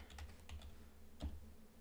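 Keys click in a few quick bursts on a computer keyboard as a command is typed, soft and close with short pauses between keystrokes.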